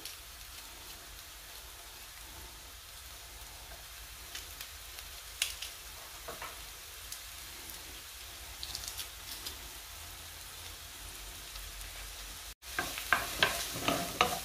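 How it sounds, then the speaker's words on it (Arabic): Onion and grated garlic sauté in a pan, a steady broadband sizzle with intermittent scraping stirs and clinks, growing louder and brighter near the end after a brief cut. "غادي نشحرها شويه، نضيف عليها الثومه محكوكه"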